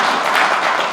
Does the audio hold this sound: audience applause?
yes